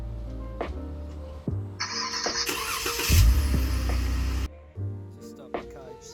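A Jeep Wrangler JK engine cranks over via remote start and catches, settling into a loud close idle for a couple of seconds before cutting off, with a brief electronic chirp before it.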